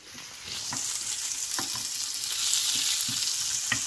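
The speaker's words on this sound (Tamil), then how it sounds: "நம்ம பேனில் வந்து ஜஸ்ட்டு கருவேப்பிலை மட்டும் போட்டு வறுத்துட்டு" Curry leaves frying in a pan give off a steady, close sizzle with scattered crackles and a few soft stirring knocks, building slightly in loudness throughout.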